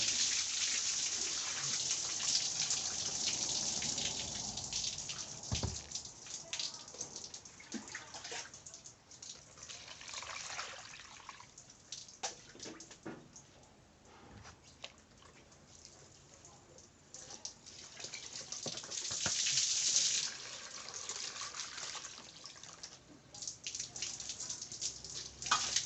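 Water poured out and draining from a pot while rice is steamed for an evening meal, a steady broadband splashing and trickling flow that swells and fades, with a louder gush near the end and no talk.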